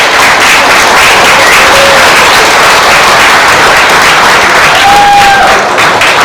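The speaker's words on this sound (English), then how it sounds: "Let's have a round of applause for the board." An audience at an annual meeting applauding the board of directors, a loud sustained burst of many hands clapping with faint crowd noise mixed in.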